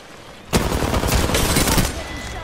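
Video game gunfire erupts suddenly into a sustained, loud, dense burst of rapid automatic shots lasting well over a second, then tails off into lingering echo.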